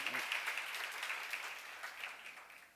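A congregation claps during a Korean church Bible lecture on Isaiah, a faint, steady patter of many hands heard from a distance that fades gradually.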